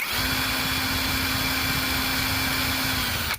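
An engine runs at a steady idle, giving a constant, even hum that stays unchanged and fairly loud from start to finish.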